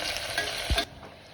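Chopped onions frying and being stirred in a home kitchen pan, a short steady sizzle with a brief scraping stir near the middle, close and alone without voices.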